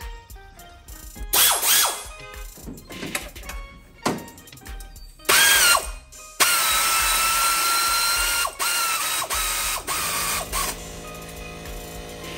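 An LS engine's harmonic balancer bolt being run in with a ratchet: loud, close bursts of rapid clicking, some brief and some long continuous runs, with short pauses between.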